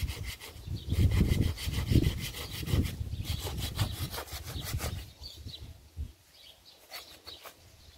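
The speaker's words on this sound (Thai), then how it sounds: "โอ้โหเลื่อยใส่เข่าอย่างนี้เลยเหรอ" A hand saw cuts through wood held against a knee, giving rapid, rhythmic rasping strokes up close that slow and thin out toward the end, with faint bird calls in the background.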